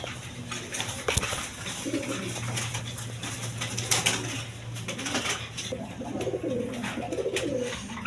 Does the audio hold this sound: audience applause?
no